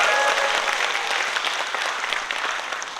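An audience at a lecture gives an encouraging round of applause, a thick wash of many hands clapping that holds steady and slowly eases.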